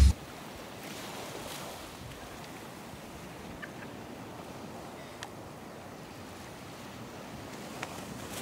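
Ocean waves wash onto a beach in St. Lucia as a steady, fairly faint rushing roar with no distinct breaks, mixed with light wind, and no voices.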